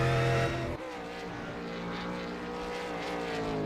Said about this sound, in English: as he gives it a whole load of revs